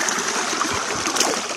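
A river stream flows steadily through a cold, forested area, with continuous close rushing and trickling water and no voices.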